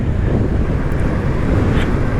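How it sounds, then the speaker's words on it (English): Riding a 2025 Kawasaki Z650 naked motorcycle around town on a windy day, a loud, steady wind roar buffets the microphone throughout, low and continuous with no speech. "It is windy out here."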